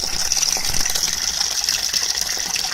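Water gushes steadily from a well after eight and a half minutes of pumping, a loud continuous splashing rush with a bright hiss, alone without speech.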